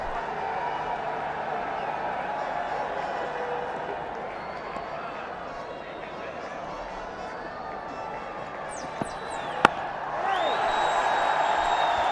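A steady crowd roar fills the stands on the fifth day of the 2022 first Test between Pakistan and England, running under a commentator's talk and swelling slightly louder near the end.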